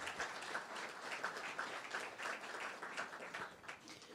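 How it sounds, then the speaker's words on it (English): Audience members clap for the hosts at the close of a talk at a farm in Schuylerville, New York, producing a faint, continuous patter of many hands heard from a distance. "definitely give them a round of applause"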